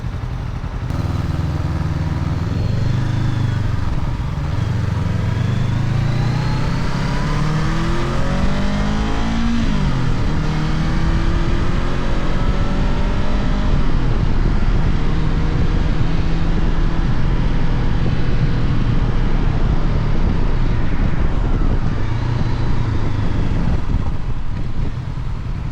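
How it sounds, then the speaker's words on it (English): A Honda NX500 adventure motorcycle gets ridden on the road, its engine droning and rising through the gears under heavy, constant wind rush, loud and steady for the whole run with no speech. "just a quick ride on the NX500"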